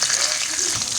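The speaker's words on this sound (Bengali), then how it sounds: "দেখো মাছ ভাজা হয়ে গেছে, তুলে নিচ্ছি।" Pabda fish coated in salt, turmeric and chili powder frying in hot oil in a pan, giving a close, loud, steady sizzling hiss that runs unbroken for about a second.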